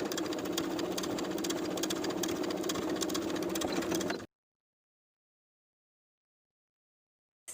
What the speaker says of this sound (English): Now I'll sew with about a 1/2 inch to a 5/8 inch seam allowance along the cording